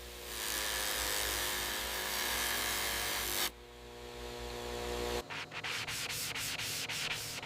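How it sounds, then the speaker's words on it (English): A Texas Longhorn bull horn gets fine sanding: a loud, steady abrasive rubbing that runs continuously, shifts tone partway through, then turns into choppy strokes near the end. "Fine sanding smooths the horn surface."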